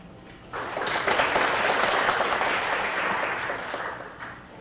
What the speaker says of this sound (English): let us all give a warm round of applause to Dr. Takashi Nagai.